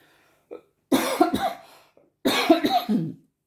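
A person gives a dry, tickly cough: a small throat catch, then two close clusters of harsh coughs, each with two or three quick hacks, close up with no speech.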